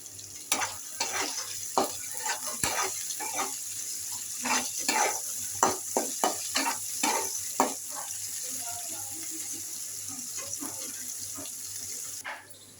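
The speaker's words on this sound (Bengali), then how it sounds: "পেঁয়াজগুলো আমি হালকা ভেজে নেব" Onions frying lightly in oil left over from frying fish, a steady sizzle broken by clicks and scrapes of stirring throughout, with a brief louder burst near the end.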